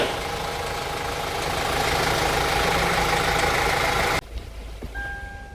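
A car engine idles steadily in a workshop during air-conditioning compressor repair, a loud constant rumble with a faint tonal whine, then cutting out abruptly to quieter room noise with a brief high beep near the end.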